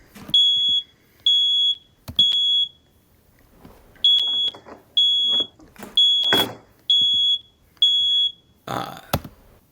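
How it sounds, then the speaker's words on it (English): A loud smoke alarm beeps steadily in a repeating pattern of three piercing tones, pausing between sets, with faint bumps and clatter underneath. "sound and beeping to let you know that there's a fire, or that it senses a fire or smoke in the area"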